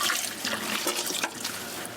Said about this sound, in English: I use lots of water, go around the sink, clean that side.